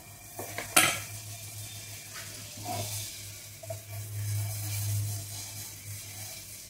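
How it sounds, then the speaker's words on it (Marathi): Chicken frying in butter in a pan, with a steady close sizzle and a few clanks and scrapes of a utensil against the pan, mostly near the start. "म्हणजे आता फक्त चिकन थोडंसं फ्राय करायलासाठी मी बटर घालणार."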